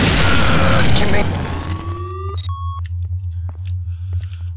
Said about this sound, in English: energy weapons are so much fun